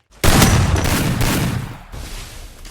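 Loud burst of rapid gunfire in the Free Fire battle game, an abrupt, dense volley of shots that trails off after about two seconds, close and with no voices.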